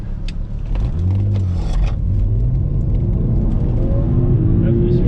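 BMW 335i with a Cobb Stage 1 tune launching from a standstill, a loud, deep engine rumble rising as it accelerates, with tire noise and cabin rattle and voices heard inside.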